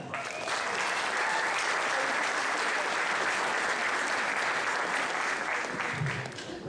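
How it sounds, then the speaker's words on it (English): A crowd at a talent contest applauds a comedian being introduced, a sustained wash of clapping that holds steady for several seconds before fading out at the end. "So would you please now put your hands together for comic Jay Sanderson?"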